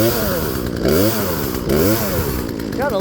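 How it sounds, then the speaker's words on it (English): A brand-new Poulan Pro gas chainsaw runs close and loud, its engine droning steadily with rising and falling revs throughout. "This is a brand new freaking chainsaw"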